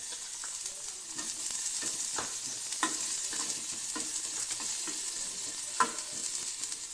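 Capsicum and onion frying in refined oil in a hot pan give a soft, steady sizzle with scattered light scrapes and taps of stirring, fairly quiet and close.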